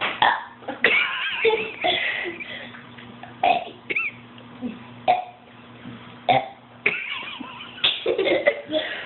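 A kid lets out a long string of loud, repeated burps, a dozen or so croaking belches in an uneven rhythm, close to the microphone.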